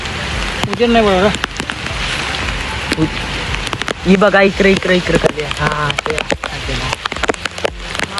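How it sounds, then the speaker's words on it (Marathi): Heavy rain pours down in a steady, dense hiss during a first-monsoon outing, while voices talk loudly over the downpour throughout. "पावसाला डेंजर एकदम"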